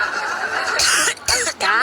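A short burst of a couple of harsh coughs, loud and close, with some throaty noise between them.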